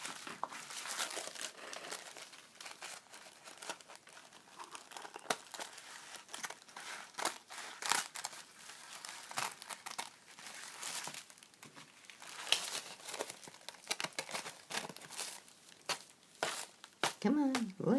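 Quiet crinkling and snipping of scissors cutting through a thin plastic sheet, irregular bursts continuing for a long stretch, close up.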